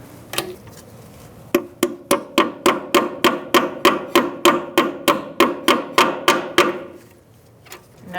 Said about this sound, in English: You might need a little hammer to hammer that in.